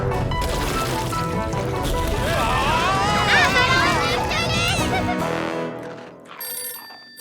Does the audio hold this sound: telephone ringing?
yes